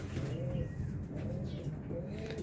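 A racing pigeon coos in soft, low, repeated rounds, close by, against a steady background.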